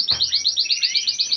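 A songbird from a breeder sings close by in a rapid, repeated series of high, bright chirps and trills, loud and clear, with a single low thump at the start.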